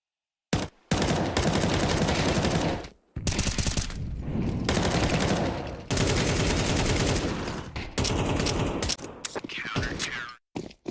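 Automatic gunfire in Counter-Strike 2 during a tournament match, dense loud rapid bursts packed almost continuously across the stretch, cut by a few short silent gaps.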